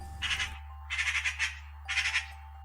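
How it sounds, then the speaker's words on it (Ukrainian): Three bursts of harsh, rattling chatter from a magpie, each about half a second long with short pauses between, loud and close over a steady low hum. "Сорока, запам'ятайте, скрекоче."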